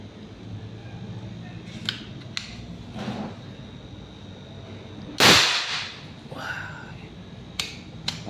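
An AFC Trek 4 air rifle fitted with a moderator fires once as a sharp, muffled burst about midway, with smaller clicks and mechanical handling sounds before and after.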